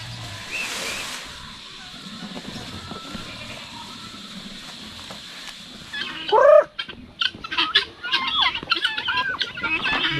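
Turkeys on a Philippine farm gobble in a loud burst near the middle, followed by more scattered fowl calls over a steady rural background.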